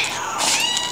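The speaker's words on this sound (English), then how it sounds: "there's some very nice kitties here" Cats in a shelter quarantine area give a brief mewing call, soft and close, over a steady room hum.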